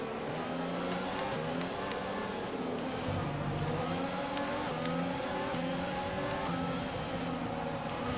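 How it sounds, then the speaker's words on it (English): A Formula 1 race car engine in the F1 2020 video game drones steadily and loudly, its pitch shifting as it revs through gears, with a dip suggesting hard braking midway. "I was just braking super hard to not run into Ricardo."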